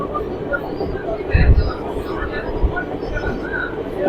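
Passenger train running on the line from Rayakottai to Bangalore, a steady low rumble of wheels on rails with a heavier surge of clatter partway through, heard from inside the carriage with a voice talking over it.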